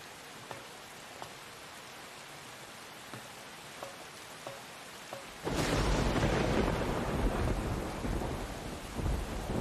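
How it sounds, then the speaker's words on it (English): A stormy night around a lighthouse in a video game: faint scattered drips give way to a sudden loud burst of thunder and heavy pouring rain that keeps rumbling on. "It's raining like hell."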